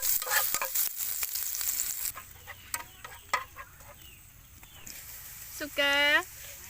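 Garlic and chili frying in hot oil, a soft sizzle with stirring clatters and scrapes nearby, and a brief rooster crow in the background near the end.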